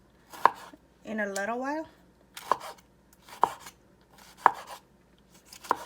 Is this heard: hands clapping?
no